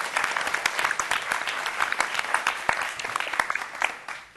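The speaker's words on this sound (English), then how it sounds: "we can go ahead and clap" Applause from an audience at a federal panel event on financial exploitation, a brisk round of many hands clapping in quick irregular bursts for about four seconds, fading slightly at the end.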